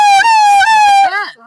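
A voice imitates an ambulance siren, a loud steady wailing tone with two quick upward warbles, then breaking off into a falling vocal sound.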